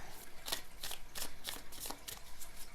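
Tarot and oracle cards being shuffled, giving a run of crisp, evenly spaced riffling flicks about every third of a second, close and clear with no voices.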